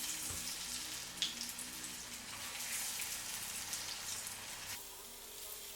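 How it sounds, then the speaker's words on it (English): Green plantains for Puerto Rican tostones crackle and sizzle in hot oil during their second fry, a continuous dense bubbling hiss with scattered pops from start to finish. "Pat them dry and add them back into your hot oil for their second fry."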